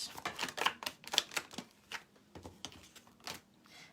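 A deck of tarot cards being shuffled by hand, a run of quick, close riffling snaps and soft slaps in irregular bursts, fairly quiet, with no speech.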